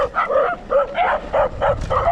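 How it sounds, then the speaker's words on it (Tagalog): A dog barks repeatedly in quick yipping bursts, close by, with short pauses between barks. "Sanay na akong habulin ng aso eh."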